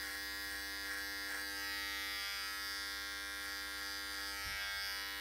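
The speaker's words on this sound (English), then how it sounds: "I'm gonna use my adjustable clipper. I'm gonna open it up all the way so we have a softer cut." An adjustable electric hair clipper, opened all the way, cuts dark hair with a steady, close, constant buzzing hum that runs through the whole clip.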